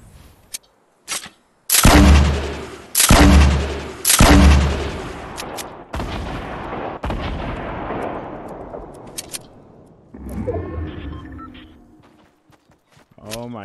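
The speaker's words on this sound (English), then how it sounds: "Who's shooting at me now?" Gunfire in a first-person shooter video game: three loud, booming shots in quick succession, each with a long rumbling tail, later decaying into distant echo and scattered impacts, with a player's voice talking over it.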